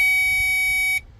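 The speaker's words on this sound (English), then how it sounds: "If it has continuity, it's gonna beep." Multimeter continuity beep while probing a relay on a BMW X5 E70, a single steady electronic tone held for about a second before cutting off cleanly, loud and alone.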